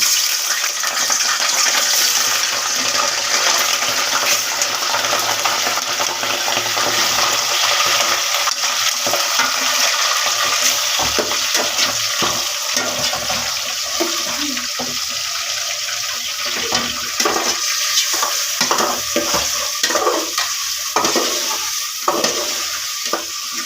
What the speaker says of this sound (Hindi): चिकन को थोड़ी देर तक फ्राई करूंगी ताकि अच्छे तरीके से फ्राई हो जाए